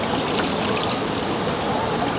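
Water crashes at Maranong Falls in a constant, dense, close-up roar that stays even throughout.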